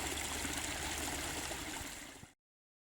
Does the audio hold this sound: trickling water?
yes